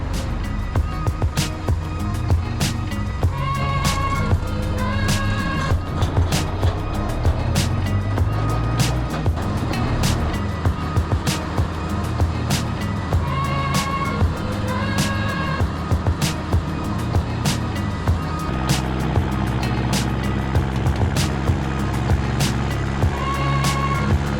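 A vehicle drives along a road while hauling firewood, with a steady low engine and road rumble, periodic rattles and clicks, close and continuous with no talk.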